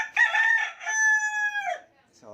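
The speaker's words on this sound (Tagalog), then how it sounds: "pasensya na, maingay yung manok" A nearby rooster crows once, a loud, long call that rises and then holds steady before breaking off, in a rural yard where a motorcycle is being repaired. A faint sound follows at the end.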